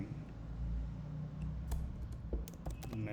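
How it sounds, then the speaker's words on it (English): Keys on a computer keyboard are tapped in quick, irregular bursts of sharp, close clicks over a low background hum. "Or I'm typing next statement, just typing, and here I'm typing"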